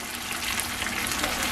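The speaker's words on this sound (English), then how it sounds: "when you first start frying food, it's gonna be fast bubbles. And this is deep frying" Five mustard-seasoned chicken wings deep fry in rising oil, a dense, steady hiss of fast bubbling and sizzling heard up close without speech.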